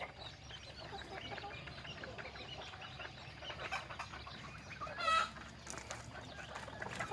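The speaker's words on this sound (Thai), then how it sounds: "พามาเบิ่งไก่ต่อ" Decoy chickens cluck faintly in the distance over a quiet outdoor background, with one slightly louder call partway through.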